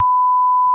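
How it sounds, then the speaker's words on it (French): A single steady censor bleep, a pure high tone held for most of a second before cutting off abruptly, with nothing else around it. "tu pourras mettre un bip à la limite"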